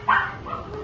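A dog inside a Tokyo dog cafe gives a couple of short, moderately close barks and yips over a quiet indoor murmur.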